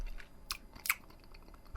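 Chewing on pork sausages (bangers) cooked with ginger and sage: a couple of crisp, crunchy bites and soft mastication over about two seconds, close up, with no talking.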